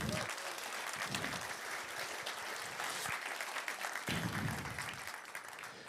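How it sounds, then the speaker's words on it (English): Applause from a conference audience on the first day of a tech event in Amsterdam, a sustained wash of many hands clapping fairly quietly and evenly, with a few louder bursts. "I want to have another round of applause"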